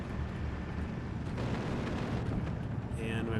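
An explosion destroys an MG42 machine-gun position in Steel Division 2, a heavy sustained rumbling blast filling the scene loudly, with a voice briefly heard near the end.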